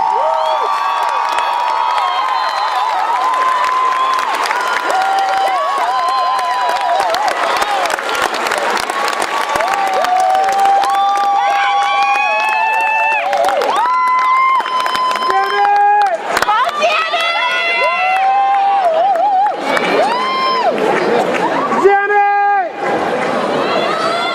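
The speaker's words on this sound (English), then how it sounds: "Clap" A large crowd at a Seattle high school commencement bursts into sustained applause and cheering after a speech, loud and continuous, with whoops, shouts and whistles rising and falling over the clapping.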